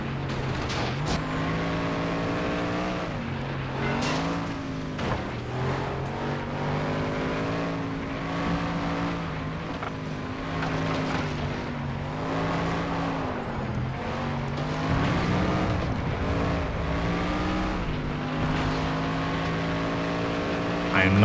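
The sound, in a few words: car engine in video game FlatOut 2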